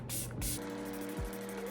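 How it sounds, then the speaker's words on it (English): Setting spray mists from a pump bottle in two quick, close bursts, each a soft airy hiss, over a faint steady background hum. "I'm gonna test out this spray real quick and make sure it like works."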